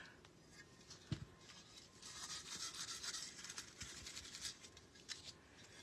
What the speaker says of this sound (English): I just found a bit that I want to sand.